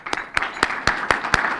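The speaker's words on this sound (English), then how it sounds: "I'd like to have a big round of applause for them" Sharp hand claps ring out in a steady, evenly spaced rhythm, six distinct beats in quick succession, at a town state-of-the-town address.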